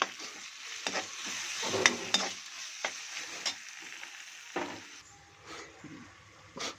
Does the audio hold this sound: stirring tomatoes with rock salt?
yes